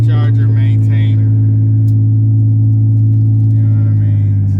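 A 2005 Dodge Magnum's engine runs steadily after a snowstorm, a loud, constant low hum and rumble heard from inside the car, with someone talking over it at the start and end.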